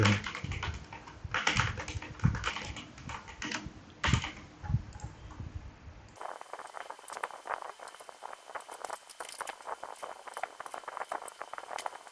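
Someone types on a computer keyboard, entering overtime hours, with irregular clusters of clicky keystrokes up close; partway through the sound quality shifts to a thinner, hissier recording as the tapping continues.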